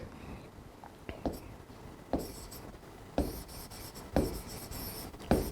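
Chalk or marker strokes on a board during a Hindi history lesson on the Mauryan period, a series of short scratchy bursts roughly every second, close and fairly quiet, with no talking over them.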